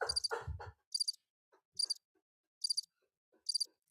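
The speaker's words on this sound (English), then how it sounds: "if you hear crickets like that" Crickets chirping as a played sound effect: short bursts of high trilling repeat at an even, unhurried pace after a brief muffled noise at the start, fairly faint and heard alone.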